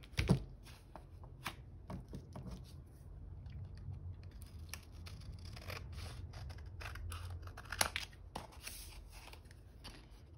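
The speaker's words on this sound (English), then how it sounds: "I'm just gonna cut this with scissors." Scissors cutting through paper pages of a garden junk journal at a craft table, a steady run of quiet, close snips and crisp rustles, with a sharper snap near the start.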